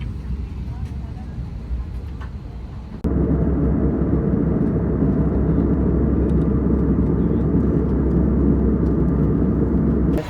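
Airliner cabin noise on a flight from Hyderabad to Singapore: a quieter hum gives way to a louder, steady low engine roar that fills the rest of the clip.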